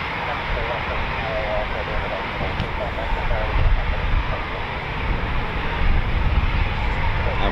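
Eurofighter Typhoon FGR4 jets at an RAF station, a loud continuous roar that swells slightly midway, with someone talking over the noise.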